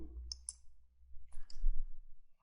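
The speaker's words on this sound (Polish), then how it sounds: "klikamy w zakładkę widok, następnie w szczegóły." Computer mouse clicks on a Windows 8 PC, two quick pairs of sharp, close clicks separated by a short pause over a low steady hum, with no speech.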